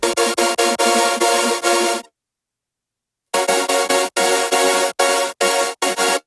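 A thick supersaw synth chord stack from an electronic remix, built from three layered sounds, pulses in short rhythmic stabs, drops out to silence for over a second, then returns with more loud, bright gated chords.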